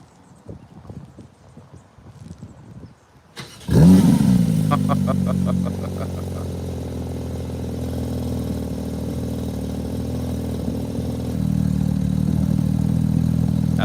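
A 2022 Porsche 911 GT3 with PDK gearbox starts and revs, a loud sudden engine burst settling into a steady throaty idle, then rising again near the end, with people talking faintly beforehand.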